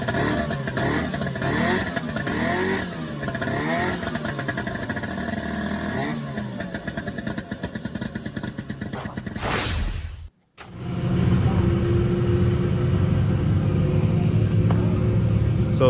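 Vintage snowmobile engine running steadily during a group ride at Barnes Corners, a continuous close rumble with clattering texture that cuts out briefly near the end before resuming louder.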